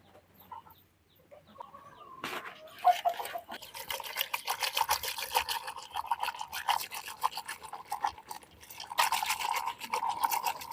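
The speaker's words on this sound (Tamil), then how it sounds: "இப்படி சிலுப்புனா இதில் இருக்கிற நாரெல்லாம் வந்துடும்" Chopped banana stem is swished rapidly by hand in a bowl of water to pull out its fibres, making bursts of fast, rhythmic splashing and swishing that start after a quiet moment and keep going.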